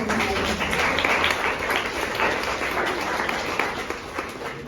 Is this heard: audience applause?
yes